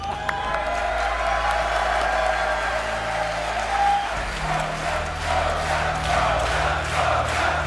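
A large crowd at a Red Bull Kumite fighting game tournament cheers and applauds continuously, a steady roar of voices and clapping with a low hum underneath.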